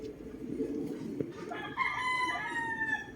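A Boston Roundhead gamecock rooster lets out one clear crow, close by, following a few low clucks.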